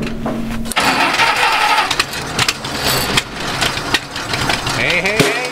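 An old Ford flathead engine on a 71 Speed Star water well drilling rig runs loud and rough at full throttle, with close, dense mechanical clatter and shifting revs, and someone talking over it.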